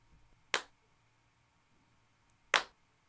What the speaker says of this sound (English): From these single claps.